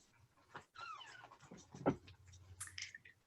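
Dogs whine and pant near the microphone, asking to be let outside, with high whimpers, soft snuffling and a sharp whine peak, all fairly faint indoors and with no talk.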